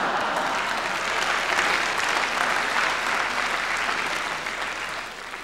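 A comedy club audience applauds in a steady, dense wash of clapping that holds loud throughout and fades slightly at the end.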